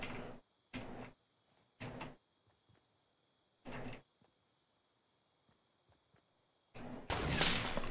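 Gunfire in the video game Fortnite: a few sharp, separate shots spaced over several seconds, then a denser loud burst at the end, with quiet gaps between.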